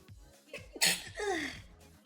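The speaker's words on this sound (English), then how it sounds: "I'm gonna sneeze." A single sharp sneeze bursts out after a quick intake of breath, close and loud, followed by a brief trailing exhale.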